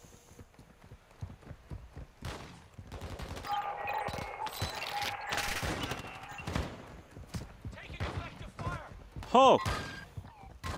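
Rapid gunfire crackles through a Call of Duty Modern Warfare DMZ match, with a shotgun among the weapons, in dense bursts and scattered shots over game noise while a player speaks.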